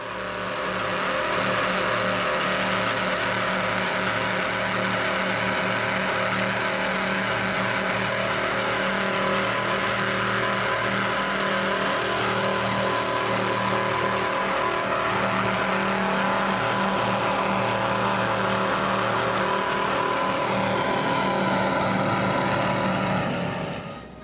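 Powerful Nortec powerboat engines roar continuously at close range during a Key West poker run, a loud, dense rumbling drone that holds steady throughout before fading at the very end.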